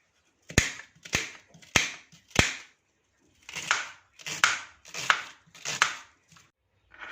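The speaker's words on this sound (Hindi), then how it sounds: "ये प्याज तो कटिंग होगी" A medium onion being cut with a knife on a board, crisp sharp chops in two bursts, four quick strokes then a pause and five more, close and clear with no talking.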